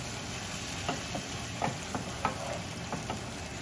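Tomato paste stirred in a frying pan over a tempering of spices, with a soft steady sizzle and light, irregular scraping strokes of a spoon against the pan, close and unaccompanied by talk.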